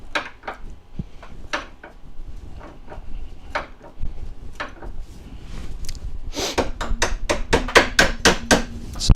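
A hammer taps a bent silverware spiral, giving scattered light metallic taps at first, then a faster run of sharper, louder strikes toward the end.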